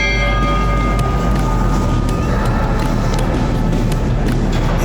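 A train rumbles past at close range at the B&O Railroad Museum in Baltimore, a loud, steady low roar with faint rhythmic clicks from the wheels and no horn.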